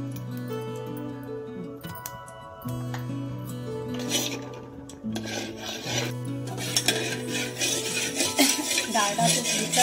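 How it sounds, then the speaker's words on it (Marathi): Broken wheat roasts in melted ghee and Dalda in a pan while a spoon stirs it, giving repeated scraping and rasping strokes with light metallic clinks over a steady tonal background that grows busier toward the end. "आता त्यात लापशी टाकायची आणि पुन्हा भाजून घ्यायची चांगली।"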